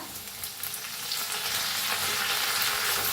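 Mustard seeds, cumin, asafoetida and crushed garlic fry in oil for kadhi, a bright, steady close sizzle that grows slightly louder after the first second, with no talk.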